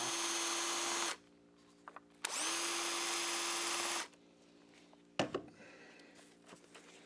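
A power drill backs screws out of the air filter assembly on a Cub Cadet SS470 string trimmer. There are two loud, high-pitched whirring bursts of about three seconds each with quiet gaps between them, then a few clunks and handling noises.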